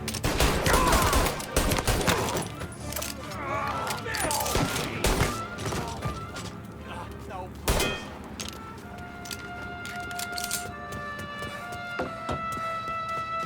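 Video game gunfire from Mafia: Definitive Edition, heaviest at the start as dense volleys and thuds, then sparser shots under game music and shouted voices.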